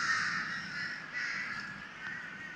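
Crows in Lumpini Park, Bangkok, give a series of harsh, drawn-out caws, three or four overlapping calls in succession, fairly loud and close, with no talking.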